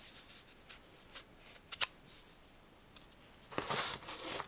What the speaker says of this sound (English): I'm gonna cut in half like that.